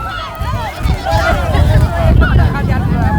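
Strong outdoor wind in Sweden buffeting the microphone, a loud continuous roar and rumble with gusting swells throughout, alone with no speech.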